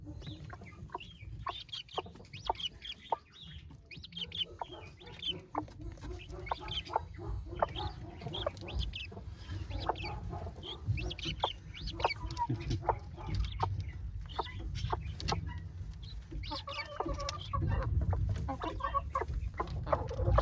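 Hens clucking on a small farm, a steady stream of soft clucks and chatter from several birds close by, with a rooster note and low background rumble throughout and no talking.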